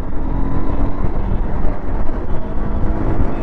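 A 2025 Honda Unicorn 160 motorcycle pulling through its gears, with a loud, close, continuous engine drone that rises and dips slightly as it revs, with no pauses.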